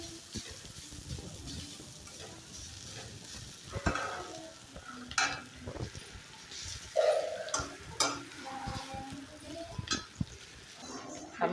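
Food frying in two to three spoonfuls of hot oil is stirred steadily, with a continuous sizzle under irregular scraping and knocking strokes from the stirring utensil.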